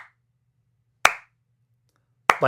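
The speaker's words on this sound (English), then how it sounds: "the clap test" Two sharp single hand claps ring out in a home theater room treated with acoustic panels, each followed by a short, quickly damped decay and near silence between them.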